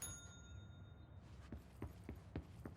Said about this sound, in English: if I hit the bell again